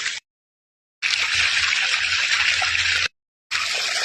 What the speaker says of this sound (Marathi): ह्याच्यामध्ये छान असं पाणी चाललेलं आहे